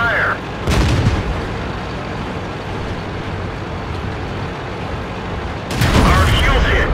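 A T-34-85 tank cannon fires twice in a tank video game, each a loud broadband boom near the start and again near the end, with a steady rumbling engine drone in between.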